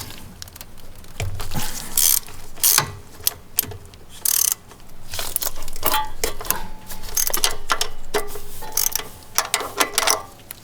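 A ratchet loosens the two thermostat nuts on a 2001 Toyota Camry 5S-FE four-cylinder engine, giving bursts of quick metallic clicking and clattering with pauses between, close and fairly loud, with no talk.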